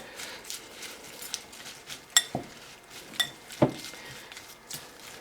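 Salad tossed with vegan ranch dressing in a bowl, soft irregular clinks and scrapes of utensils against the dish with a few sharper knocks, fairly quiet, no talking.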